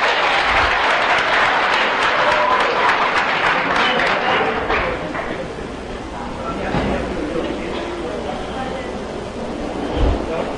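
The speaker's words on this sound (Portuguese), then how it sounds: "Finalmente, palmas para o Anderson." Applause from a seminar audience for a man named Anderson, a dense broadband clatter of clapping that is loud at first and thins out after a few seconds, with voices talking underneath.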